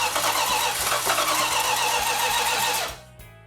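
1971 Dodge Demon 340 Six Pack with the distributor out of time, cranking loudly in a steady rhythmic churn without firing, then cutting off abruptly near the end.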